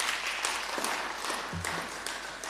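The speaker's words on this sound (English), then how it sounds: "Can you applaud once for the speech?" A fairly faint, steady patter of applause fills a session of a disability parliament in the Fourth Raadsaal in Bloemfontein, a sustained round of clapping from a room of attendees with a brief low murmur partway through.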